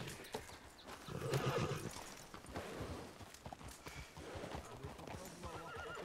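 A horse whinnies while hooves clip-clop in a Western setting, the loud neigh rising in the middle over steady hoofbeats and background bustle.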